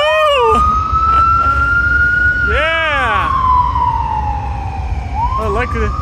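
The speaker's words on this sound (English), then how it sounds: "I like that fucking fire truck." A loud passing fire truck siren wails in a long slow sweep, falling then rising again, while excited voices shout over it nearby.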